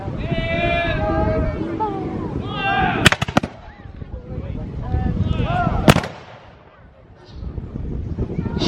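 Musket and cannon fire at an English Civil War battle reenactment of the 1642 Battle of Northampton: two sharp, loud blasts about three seconds apart ring out over a noisy backdrop of shouting and bleating voices.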